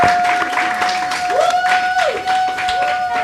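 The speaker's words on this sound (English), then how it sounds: "Y'all give them a round of applause." A seminar audience claps together in a brief, dense burst, close and fairly loud, with a steady electronic tone and a falling squeal of feedback running through the applause.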